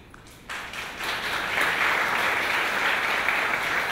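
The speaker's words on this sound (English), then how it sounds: "Big applause for both of them." After a quiet moment, an audience bursts into applause for two students, the clapping swelling quickly into a full, steady roar of many hands that holds to the end.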